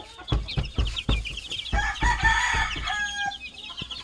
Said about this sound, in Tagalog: Ayan yung mga sisiw na bagong pisa.